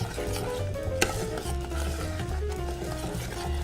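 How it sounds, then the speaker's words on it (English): Praline candy mixture of melting sugar being stirred steadily in a pot, with soft scraping and light sizzling, one sharper clink partway through, and no talk. "you gotta stir it constantly"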